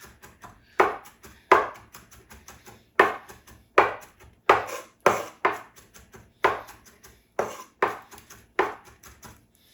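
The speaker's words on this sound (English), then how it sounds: "Just a few more chops." A knife chopping ingredients for chicken soup on a cutting board, about a dozen crisp, evenly spaced thuds in a brisk rhythm, close and clear, with no talking.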